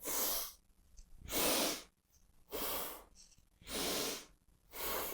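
Bhastrika pranayama yoga breathing, five forceful nasal breaths in an even rhythm, each a loud rushing hiss of air lasting about half a second, separated by short quiet pauses, close to the microphone with no talking.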